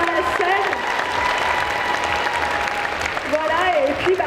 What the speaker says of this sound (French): vous pouvez encore l'applaudir très fort le temps qu'elle sorte de la scène